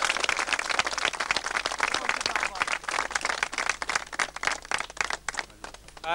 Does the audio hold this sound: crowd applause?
yes